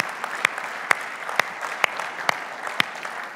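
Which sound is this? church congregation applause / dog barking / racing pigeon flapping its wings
church congregation applause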